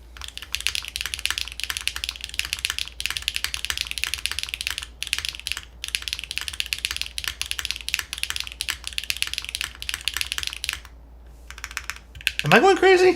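Steady typing on a custom-built Stratum-80 mechanical keyboard, crisp close keystrokes in quick irregular runs with a few short pauses, ending with a brief burst of voice.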